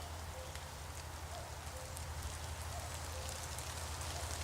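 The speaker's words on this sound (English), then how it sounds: "I meant to mention it's raining" Steady rain patters on the surroundings of a woodland base camp, a soft, even hiss with no voices.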